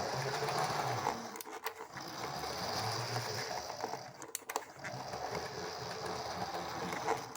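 A model train locomotive runs with a busy, rattling mechanical whir from its slightly noisy motor, steady and close, with a couple of brief dips and clicks along the way.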